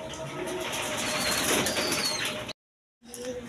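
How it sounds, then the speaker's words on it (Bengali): A pair of high-flying Giribaz pigeons, green-necked, coo softly amid a dense, busy wash of bird noise and flutter, steady for two and a half seconds, a brief cut to silence, then resuming. "দর্শকবৃন্দ এইখানে এক পেয়ার হাই ফ্লাইং গিরিবাস কবুতর আছে"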